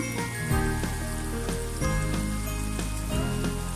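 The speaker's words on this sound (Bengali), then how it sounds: "এবারে এটাকে আমি ভালোভাবে কষে নিচ্ছি পেঁয়াজটা লাল করা যাবে না সাদা থাকা অবস্থায় আমি কষে নিচ্ছি" Onions with chili powder sauté in a pan for a bitter gourd, potato and fish curry, a steady close sizzle with periodic scrapes of a stirring spoon and a faint tonal hum underneath.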